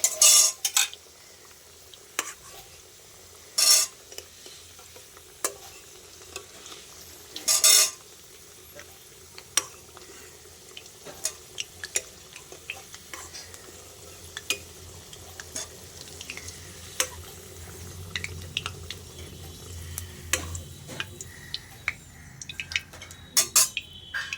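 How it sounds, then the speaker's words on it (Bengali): Fried potatoes are lifted out of hot oil in a pan while a meat dish is being cooked. A utensil clinks and scrapes at irregular intervals over a faint, low sizzle. "আলুগুলো ভাজা হয়ে গেছে সব এবার আলুগুলো তুলে নেবো"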